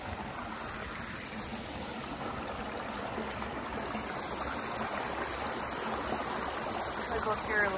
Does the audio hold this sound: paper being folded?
no